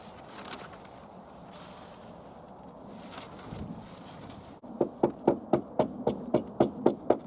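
Sharp, evenly spaced hammer blows tack up timber feather edge boarding outdoors, about ten close strikes in a quick rhythm after a stretch of quieter wind and handling noise.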